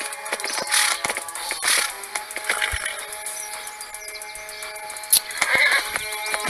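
A horse in a video game whinnies and stamps its hooves amid other game noise, the neighs and hoofbeats fairly close and clear with no talk over them.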